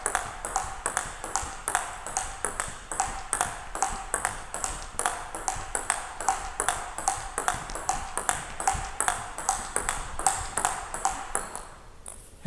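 New plastic table tennis ball bounces in a steady rapid rally, a string of crisp high-pitched pings roughly twice a second, evenly spaced and close, with no voices over them.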